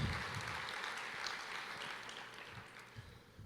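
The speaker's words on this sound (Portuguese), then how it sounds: "Você pode aplaudir o Senhor" A church congregation applauding during a sermon, a diffuse, fairly faint wash of many hands clapping that continues steadily and slowly fades.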